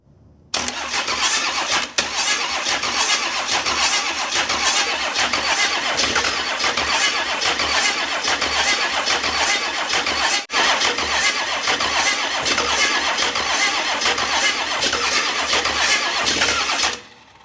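A 1960 Pontiac wagon engine, sitting for 34 years and leaking compression, cranks steadily on the starter for a long stretch, loud and close, with a brief break near the start and another midway, then stops.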